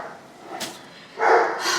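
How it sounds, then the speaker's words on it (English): A dog gives a couple of short barks nearby, a brief yip followed by a fuller bark. "So if you guys hear Emmy barking"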